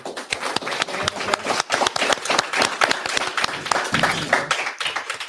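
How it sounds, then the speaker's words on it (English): A conference audience applauds, a dense, steady round of many hands clapping throughout, fairly loud and continuous, with no talking. "let's give a round of applause for"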